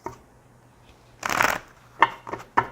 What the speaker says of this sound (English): Yeah, you hear me shuffling.